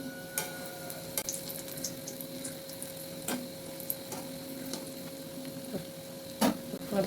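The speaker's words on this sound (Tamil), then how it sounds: "இனி ஒரு பக்கம் வெந்துட்டு இனி அடுத்த பக்கம் நம்ம திருப்பி போடும்" Gram flour bonda frying in oil, with a soft, steady sizzle and bubbling close by, broken by scattered sharp pops and crackles, plus a faint constant tone throughout.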